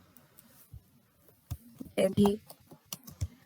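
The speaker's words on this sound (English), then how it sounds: "like I'm typing here" Clicky taps on a computer keyboard while word processing, a short cluster of quick keystrokes near the microphone, heard between stretches of speech.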